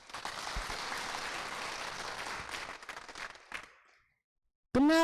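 Church congregation applauding together, a dense sustained burst of clapping that fades out after about four seconds, followed by a brief speaking voice at the end.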